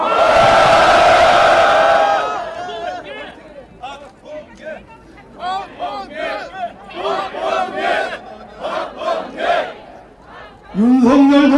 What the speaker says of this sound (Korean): 환호성 한번 질러주세요.